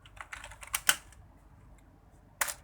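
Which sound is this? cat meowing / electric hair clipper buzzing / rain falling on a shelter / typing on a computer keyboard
typing on a computer keyboard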